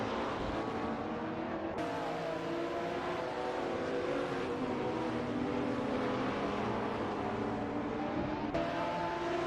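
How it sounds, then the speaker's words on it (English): AI-driven supercars race around Road Atlanta in a video game, their engines droning steadily at moderate volume with shifting tones and abrupt cuts between camera views. "watching these R-driven cars zoom past each other"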